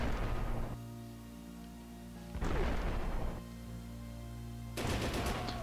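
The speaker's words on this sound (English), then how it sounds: "Let's use our artillery first." Artillery in the World War II game Tank Battle North Africa fires three heavy, crackling blasts roughly two seconds apart over a steady, low engine hum, with no voices.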